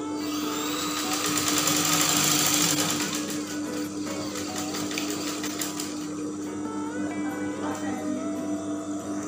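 Sewing machine stitching a mermaid dress of plain fabric and brocade, a steady fast mechanical whir with rapid needle ticking, loudest at the start and then running on evenly.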